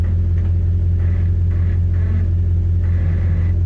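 A car engine rumbles steadily while the vehicle rolls slowly in reverse, a constant low drone close by with no voices over it.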